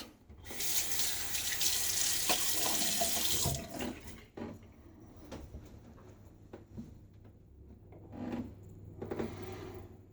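Running water pours steadily from a tap for a few seconds, then stops, followed by close, intermittent splashing and dripping of water splashed on a face before shaving.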